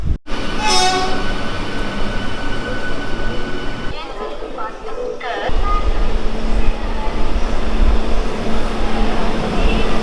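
The Sabari Express train arrives at a station, rumbling loudly nearby with a horn sounding early on, the clatter dipping briefly before returning strong.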